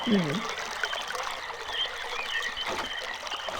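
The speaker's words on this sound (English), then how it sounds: "So here we can hear water again" Running water trickles steadily through a path in the RealMyst game world, a soft continuous flow heard beneath a few brief sounds, with no talk over it.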